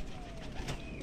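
Pigeons in a loft give soft, low, rolling coos, faint and a little distant, over a hissy, steady background.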